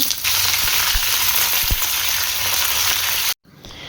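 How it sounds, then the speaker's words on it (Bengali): Potatoes and cauliflower fry steadily in a pan with salt and turmeric, a loud continuous sizzle with a few soft knocks, cutting off abruptly near the end. "আলু ফুলকপিটাকে ভালো করে ভেজে নিয়েছি নুন হলুদ দিয়ে"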